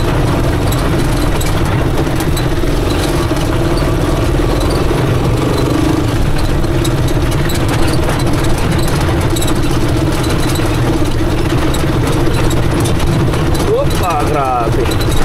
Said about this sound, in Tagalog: makina ng chariot